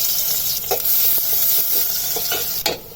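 Onion frying in hot oil for tempering dal, a steady close sizzle broken by a few light stirring clicks and scrapes.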